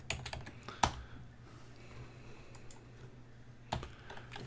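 Keys on a computer keyboard are pressed at a retro computer setup, a few sharp close clicks near the start and another burst near the end, with near silence between them and a faint steady electrical hum underneath.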